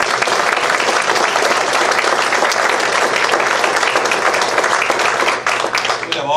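An audience at a school district Citizen of the Month event claps for the honored students, loud dense applause filling the room with a low hum beneath it, tapering at the end.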